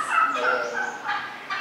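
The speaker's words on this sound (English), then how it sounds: "Greater prairie chicken and a lesser prairie chicken." Greater and lesser prairie chickens in a wildlife museum exhibit give a close, moderately loud run of gobbling, cackling calls that rise and fall in short bursts.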